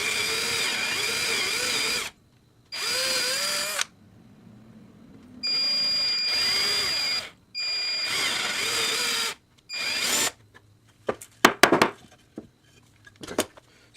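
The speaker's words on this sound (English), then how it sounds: "I'm going to drill some really tiny ones." A power drill bores 1/4 inch holes for a Mini Sprint throttle cable rebuild, whining in several loud bursts separated by pauses, the motor pitch sagging under load, followed by light clinks and taps of handling.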